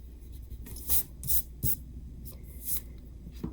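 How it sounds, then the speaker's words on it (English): A pencil eraser rubs back and forth on paper during a cartoon rooster drawing, in several short scratchy strokes up close with brief pauses between them and no talking. "And then I'll just erase in between here."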